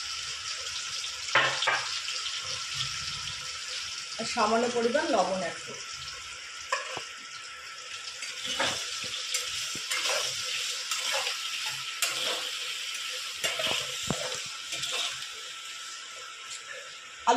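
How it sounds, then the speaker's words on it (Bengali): Potatoes fry in hot oil with turmeric and a little salt for a potato, pointed gourd and soya chunk curry, giving a steady close sizzle with occasional stirring and utensil clinks while someone talks over it. "গরম হয়ে গেছে, এবার আলুগুলো ভেজে নেব"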